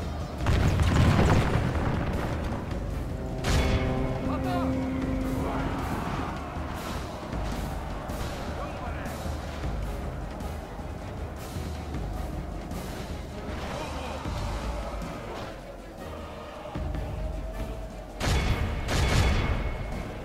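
Artillery fire in the video game Medieval 2 during an open field battle, with deep booming blasts at the start and again near the end over a continuous rumbling battle din, while someone talks.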